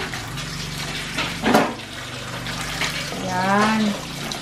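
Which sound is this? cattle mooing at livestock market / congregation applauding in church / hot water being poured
hot water being poured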